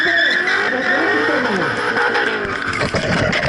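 Toyota Supra with a 3000 cc engine skidding at a drift show, a loud continuous tire squeal with wavering pitch over engine roar, close and sustained throughout.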